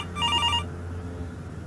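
A phone ringtone chimes briefly, a short bright electronic ring of about half a second, then stops, leaving a low hum underneath.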